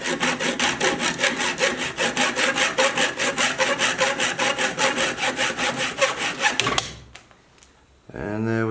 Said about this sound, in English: we'll just now cut that off with a hacksaw